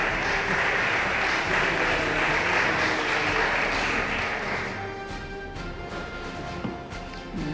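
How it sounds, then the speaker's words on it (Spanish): Audience applause after an inaugural heritage lecture on the Ruiz Florindo master builders of Palma del Río, a steady wash of clapping that fills the room and then thins out toward the end. "El aplauso para los Ruiz Florindo, que si no, no estaríamos aquí"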